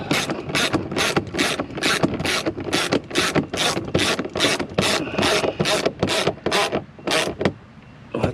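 A ratchet clicks steadily as it tightens a door speaker fastener on a 2017 Ford Edge, about fifteen even, close-up clicks in a regular rhythm, slowing and fading at the very end with no talking.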